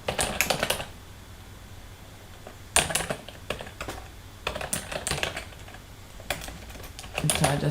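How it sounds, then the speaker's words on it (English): Bursts of typing on a computer keyboard come in several rapid clusters of clicking keystrokes, with quiet pauses between them and faint background sound. "so I just type for demonstration"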